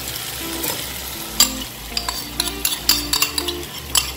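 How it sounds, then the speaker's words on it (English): Tomato sauce poured into a hot frying pan and stirred, with a steady sizzle underneath and a run of sharp utensil scrapes and taps against the pan at an irregular pace, close and clear. "We add the tomato sauce."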